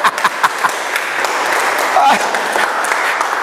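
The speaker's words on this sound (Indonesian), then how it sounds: "Berikan sorak-sorai buat Tuhan." A church congregation cheers and applauds for God: a burst of clapping and voices forms a continuous crowd roar, with a few loud individual claps at the start, near and fairly loud throughout.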